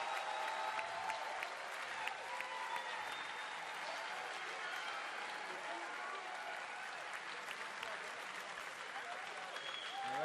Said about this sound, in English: Can I get a massive, a special round of applause for the last possible game and the Blizzcon 2011 Grand Finals.